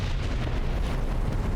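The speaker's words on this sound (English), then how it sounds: "Let's go toward the explosions." Rumbling explosions in the War Thunder video game, a dense, continuous low boom with steady loud roar throughout and no pauses, heard without talk.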